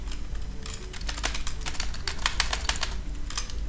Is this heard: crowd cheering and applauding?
no